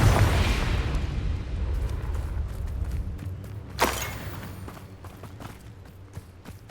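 A Confringo blasting spell goes off in Hogwarts Legacy, a loud burst at the start that rumbles and fades, followed by a second sharp crack midway, with smaller pops trailing after.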